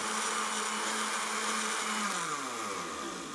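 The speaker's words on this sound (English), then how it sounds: "This is day one of the blender test for the Robert Murray Smith method of creati" A kitchen blender runs continuously, mixing graphite to make graphene, with a loud, steady motor whine and a pitch that sags slightly toward the end, close by and with no talking.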